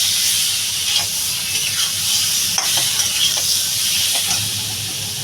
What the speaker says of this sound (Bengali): এবার একটু কচুটা ভালো করে কষাবো